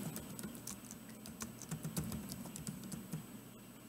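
Quiet, steady typing on a computer keyboard while a search term is entered, a close run of light, even clicks with no talking over it.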